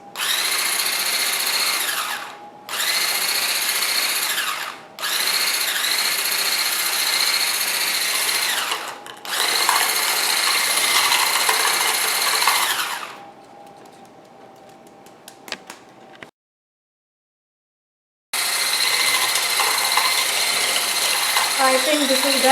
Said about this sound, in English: after whisking the butter and the sugar